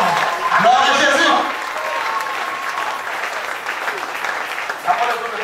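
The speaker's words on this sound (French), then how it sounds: "Est-ce que quelqu'un va acclamer Jésus?" Church congregation applauding and cheering for Jesus, a dense wash of clapping with shouting voices mixed in, fairly loud and continuous throughout.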